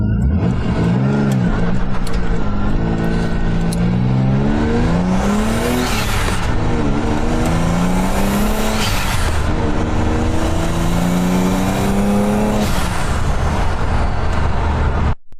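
Twin-turbo Ford Capri with a 2.9 engine driving, its revving engine loud and close throughout, pitch climbing and falling through repeated accelerations and gear changes, with no talk over it.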